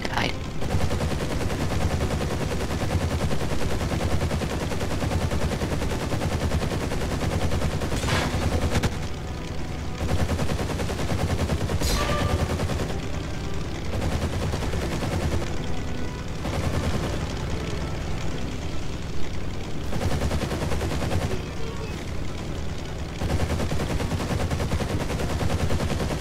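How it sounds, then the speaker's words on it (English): Rapid bursts of aircraft cannon and gunfire in the Wings of Glory 2 air combat game, dense and continuous over a loud rumbling background, with brief gaps and a few sharp cracks standing out. "they have cannons on this plane."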